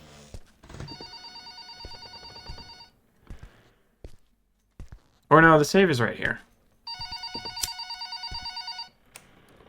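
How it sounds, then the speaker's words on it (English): An old-style telephone bell rings in the horror game Bloody Ink, loud repeated ring bursts with pauses, while someone talks between and around the rings. "the telephone is still ringing"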